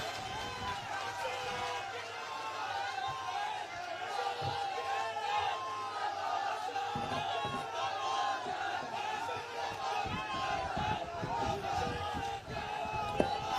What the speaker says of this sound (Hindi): जोरदार ताली बजा के स्वागत करें राजस्थान के मुख्यमंत्री अशोक